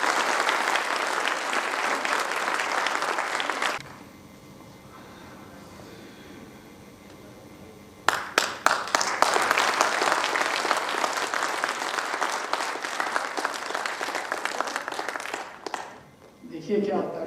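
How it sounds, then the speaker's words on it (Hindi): An audience at a large live event gives a loud, sustained round of applause welcoming a guest, with dense clapping that breaks off, resumes after a quieter stretch, and continues with scattered sharper claps. "और एक बार जोरदार ताली से स्वागत है।"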